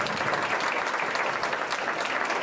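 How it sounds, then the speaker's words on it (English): Audience applause for a jazz panel at the Improv club, a steady, dense clapping wash that fills the whole stretch at even loudness with no talk over it. "How about a round of applause for our panelists?"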